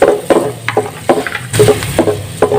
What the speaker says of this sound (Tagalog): Then pag natunaw na po itong ating margarine, ilagay na po natin yung ating bawang